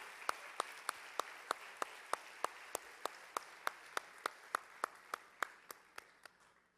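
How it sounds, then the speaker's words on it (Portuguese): A church congregation claps in a steady, evenly spaced rhythm, about three crisp claps per second. The clapping sounds somewhat distant and thins out toward the end. "Vamos aplaudir ao Senhor."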